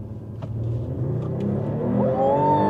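A Mercedes-AMG CLE 53 six-cylinder accelerating hard in sport mode, a close rumbling engine note climbing steadily in pitch as revs rise, heard from inside the car without talk.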